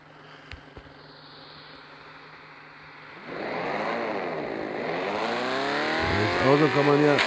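A car drifts in the mobile game Car Parking Multiplayer: quiet idle, then the engine revs up sharply with rising and falling sweeps and tire squeal, growing louder toward the end.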